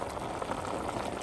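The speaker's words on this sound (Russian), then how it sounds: "даем хорошенько закипеть и пустить сок помидоркам, перцу" Chopped tomatoes and peppers bubble steadily in a pot while being brought to a vigorous boil, giving a close, continuous simmering crackle with no talk.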